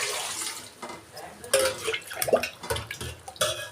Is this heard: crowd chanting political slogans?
no